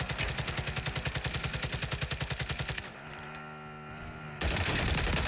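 Rapid automatic SMG fire in the Warzone video game, a fast steady burst of close, loud shots for nearly three seconds, then a brief lull with ringing tones before another dense burst of gunfire.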